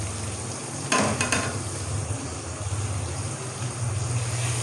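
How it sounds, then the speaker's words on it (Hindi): Ginger garlic paste frying with onions and tomatoes in a pan for a potato and spinach dish, a dense continuous sizzle with a brief burst of scraping stir near the start, close and without talk. "अदरक और लहसुन के पेस्ट को हमने इतना फ्राई करना है कि इसका कच्चापन है जो सा वो ख़त्म हो जाए।"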